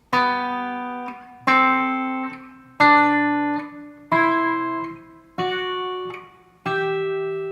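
Pairs of guitar notes plucked together over a held chord shape, six times at a slow even pace up the scale, each ringing and decaying before the next, clear and close.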